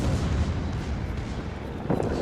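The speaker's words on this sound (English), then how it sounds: "Cool guys don't look at explosions." Naval battle in World of Warships with a Tirpitz battleship firing on enemy ships, a dense low rumble of artillery fire and explosions rolling continuously at close range with a heavier burst near the end.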